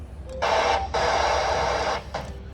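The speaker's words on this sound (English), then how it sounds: "This noise is often called as white noise" Unsquelched ham radio receiver hissing with steady white noise, loud and close, in bursts broken by short gaps as it switches on and off.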